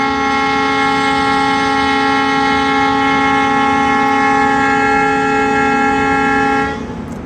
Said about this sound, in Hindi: डीजल इंजन की व्हिसल ही अलग होती है।